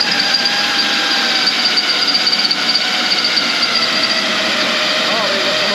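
Power drill boring a hole through the side panel of a trailer, a steady high whining drone held for several seconds, with people talking over it.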